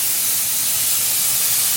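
Steady, loud hiss of escaping steam from a steam locomotive at the Bo'ness & Kinneil Railway, a continuous broadband rush with low rumble beneath, no voices.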